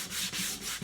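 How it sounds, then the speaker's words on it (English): Steady rhythmic sanding, three back-and-forth strokes of sandpaper rubbing across a painted wooden door hanger, close and fairly quiet with brief dips between strokes. "we are sanding in the same direction that our base coat was painted"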